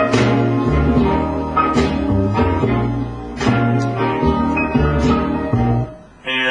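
A looped soul music sample taken from a record plays loud and full, with steady rhythmic bass notes and recurring accents before cutting off near the end.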